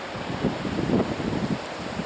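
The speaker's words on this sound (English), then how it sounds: "You can see the gusts coming across the water." Wind in a windstorm gusting across open water, a loud continuous roaring rush with surging swells, close and without speech.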